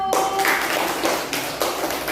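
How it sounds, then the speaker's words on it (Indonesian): Classmates clap for group 1 in a classroom, a few light, scattered claps and taps at moderate distance, fairly quiet. "Tepuk tangan untuk kelompok 1."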